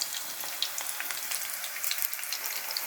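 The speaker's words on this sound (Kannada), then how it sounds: "ನೀಟಾಗಿ ಫ್ರೈ ಆಗಬೇಕು ಅದು ಎಣ್ಣೆಯಲ್ಲಿ." Green chillies fry in oil in a pan for a chickpea usli dish, giving a soft, steady sizzle dotted with small crackles and pops.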